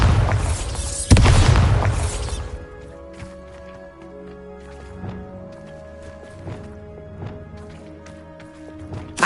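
A Bombarda spell from Hogwarts Legacy goes off in a loud, close blast with crashing debris, followed by scattered sharp impacts and clattering echoes fading over several seconds.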